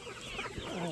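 Backyard chickens cluck in a short, close burst of soft, chattering calls over light outdoor noise.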